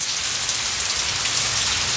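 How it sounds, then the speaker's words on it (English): Steady, dense rain pattering used as a sound effect in a radio advert, close and loud, a continuous even hiss of drops on a surface with no voices. "The patter of rain falling outside."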